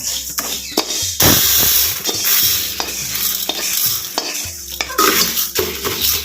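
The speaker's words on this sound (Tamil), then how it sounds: "உளுந்தை நல்லா பொன்னேரமாக நல்லா வறுத்துக்கிட்டோம்" Urad dal dry-roasting in a pan, stirred with a spoon: continuous dry rustling and scraping with repeated sharp clinks of utensil on metal, close and fairly loud, no voices.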